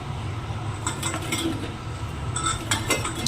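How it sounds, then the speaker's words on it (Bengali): Potatoes tumble into a pot of simmering chicken curry, with clinks and knocks of metal cookware and utensils over a steady low background hum. "এরপরে আলুগুলো দিয়ে দিলাম।"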